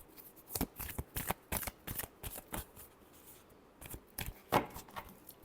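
Tarot cards shuffled by hand in a quiet room, a series of quick crisp riffling bursts in uneven rhythm, close and fairly soft, with a short pause midway.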